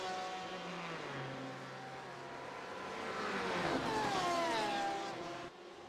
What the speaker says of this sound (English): They all start to roll out of the pit lane.